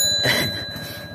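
A bicycle bell on a vehicle waiting outside a house rings once, a bright, close metallic ding that rings out and fades over about a second.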